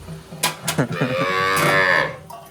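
A hungry calf moos loudly and close by, one long drawn-out call after a few shorter grunting sounds.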